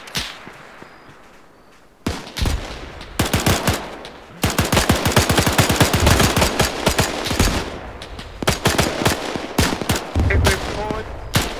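Rapid automatic gunfire in a shooter video game, dense loud bursts of shots and cracks, mostly continuous after a brief quieter opening, with faint talk mixed beneath.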